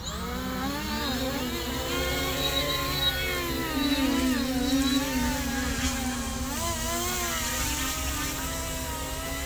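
Electric motors of a VTOL aircraft during a transition flight test, a loud continuous whine with wavering pitch as throttle shifts, steady and close throughout.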